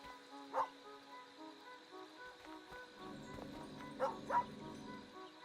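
Game dog from Superbrothers: Sword & Sworcery EP barking in a few short, distinct yips over a soft musical backdrop, one near the start and a quick pair toward the end.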